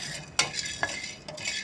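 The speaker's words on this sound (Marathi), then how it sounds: "तर आता आपल्या या बिया भाजत आल्या" Sunflower and melon seeds dry-roasting in a pan, with a few sharp scraping clinks of a spoon stirring them against the metal over a soft, steady rustle.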